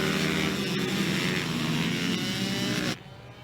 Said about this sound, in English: You've got the scream of the two-strokes, the roar of the CRF 150 four-strokes